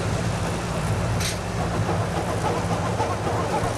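A heritage train rumbles continuously along the South Tyne Valley line, hauled by steam with an accompanying diesel engine that supplies brake air, giving a steady low drone and clatter throughout.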